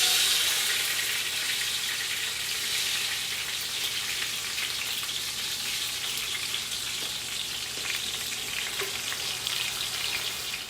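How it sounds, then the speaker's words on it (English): Rice tipped into hot oil for parching in a Guyanese veggie fried rice, giving a loud, dense sizzle at first that eases into a steady, even frying crackle with no voices. "So now that my oil is hot, I'm going to add the rice."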